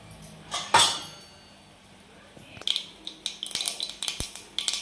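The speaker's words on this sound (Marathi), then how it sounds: "तर मोहरी तडतडलेली आहे." Mustard seeds crackle and pop in hot oil in a pan while cooking a radish-leaf vegetable dish, a burst of sharp, irregular clicks and spits close by, growing denser toward the end.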